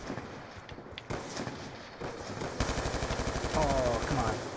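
Gunfire in the video game Call of Duty 2: single shots give way to dense, rapid bursts of automatic fire that build steadily and grow louder toward the end, with no one speaking.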